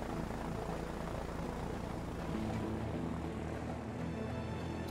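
Plane engine in the video game A Way Out, a faint, steady, even droning hum that holds constant throughout.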